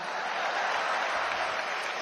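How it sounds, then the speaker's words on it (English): Conference attendees clap together in a hall, a continuous, fairly soft patter of applause with no speech on top. "And if you are not jealous, you should clap for me."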